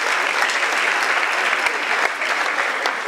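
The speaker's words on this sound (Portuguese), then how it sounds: "Uma salva de palmas." Audience applause at a Casino Estoril glamour gala, a dense, steady wash of clapping that stays loud and even throughout without pause.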